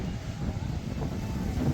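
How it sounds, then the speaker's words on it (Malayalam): Strong wind at a hill viewpoint, a steady loud rushing buffet with low gusty rumble across the whole moment, with no speech over it. "നല്ല കാറ്റുണ്ട്."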